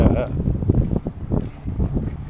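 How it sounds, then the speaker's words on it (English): Gusty wind by a lake in Suzhou, China buffets the microphone in low rumbling bursts, with some background sound mixed in. "The wind is picking up a little bit"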